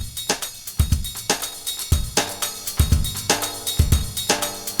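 Jazz drum break fed through a Berlin resonator effect: a looping groove of thumping kicks and sharp snare hits with a metallic, tonal ringing sustain between strikes, moderately loud and steady.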